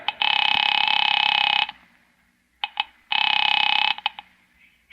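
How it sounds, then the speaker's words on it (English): Old-fashioned telephone in a radio drama, heard as two long loud steady tones, each lasting over a second, separated by short clicks and clatter as the handset is handled and dialed. "Picking it up quietly, I dialed my daughter's number, Alec Bartlett's wife."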